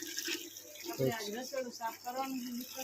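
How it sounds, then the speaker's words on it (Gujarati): Water runs from a tap to fill a container for a bike wash, a steady watery hiss heard under people talking throughout. "પાણી પણ આવી ગયું છે ભાવનાએ પાણી ભરે છે"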